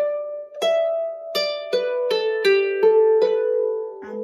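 Harp plays the first phrase of a Manx tune, a slow line of plucked, ringing notes at a clear, even pace, close and alone with no talking.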